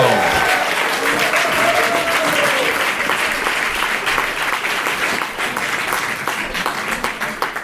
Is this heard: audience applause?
yes